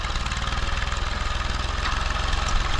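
A tractor engine runs steadily while planting corn in 4th gear at about 4 miles an hour, a loud, continuous low drone with a rapid, even throb that stays constant from start to finish.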